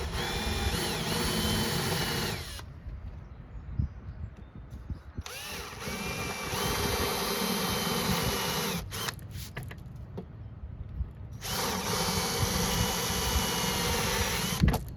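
A power drill bores a hole during an arcade cabinet conversion, whining loudly in long steady bursts with short pauses between them, close to the listener and without talk.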